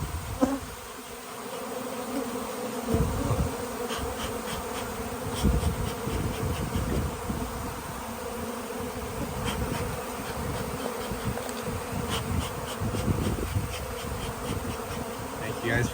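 A honeybee swarm buzzes continuously during a hive rescue in Kaneohe, Hawaii: a dense, close, steady drone of many wings with occasional louder passes of individual bees.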